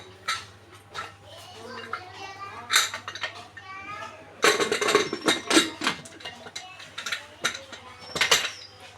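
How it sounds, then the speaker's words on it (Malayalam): A pressure cooker lid is handled and closed with metallic clanks and clatters among other kitchen knocks. Children's voices and talk can be heard in the background. "നമുക്ക് ഈ പ്രഷർ കുക്കർ ഒന്ന് അടച്ചു കൊടുക്കാം."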